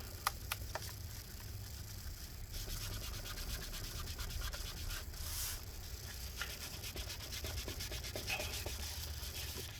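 Adhesive residue is scraped off the inside of a 2012 15-inch Retina MacBook Pro A1398 during battery replacement, with repeated close, dry rubbing and scratching strokes and a few sharp ticks.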